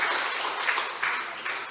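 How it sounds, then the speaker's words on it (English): A church congregation at a worship service claps in a brief, steady burst of rhythmic applause, moderately loud with a few sharper claps standing out. "Let's clap for the servant of God."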